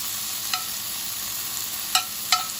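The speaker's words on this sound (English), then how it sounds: "you want to cook your bacon up in this cast iron skillet" Bacon frying in a cast iron skillet, a soft steady sizzle with three distinct spatula scrapes or taps spaced through it, close up with no talking.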